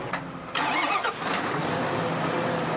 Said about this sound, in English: Man, that's a noisy tractor.